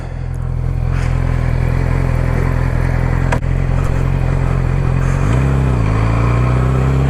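A motorcycle engine drones loud and close while riding, holding a steady rumble with a brief knock near the middle and a shift in pitch toward the end.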